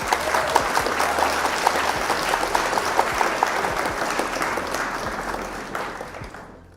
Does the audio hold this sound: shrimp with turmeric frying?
no